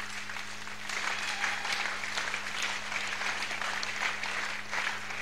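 A church congregation applauds with sustained, dense clapping that swells and stays steady at moderate distance for several seconds, with no voices standing out.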